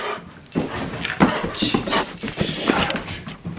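A dog whimpers and yips in short, high, restless bursts at close range, with scuffling movement between the sounds.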